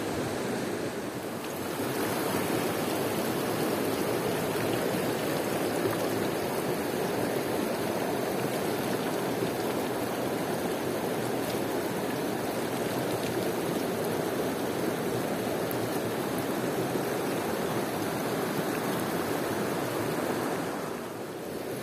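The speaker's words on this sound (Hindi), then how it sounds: "ये देखें इस साइड पे है चश्मा। साफ शफाफ प्योर क्रिस्टल वाटर।" Crystal-clear water from a mountain spring in a village in the Allai Valley rushes steadily, a loud, continuous broadband wash that holds unbroken for about twenty seconds with nothing else on top.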